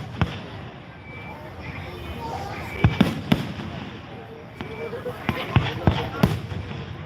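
A run of fireworks pops and bangs at the Milan Fair celebration, irregular sharp bursts near and far that grow denser toward the end, with a crowd talking throughout.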